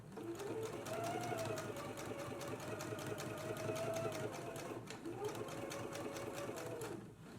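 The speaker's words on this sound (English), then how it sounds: "Let's go ahead and stitch really close to the pressed edge now." A sewing machine stitching along the pressed edge of a girls' dress, a steady rapid mechanical whir with a brief pause and restart, close and clear.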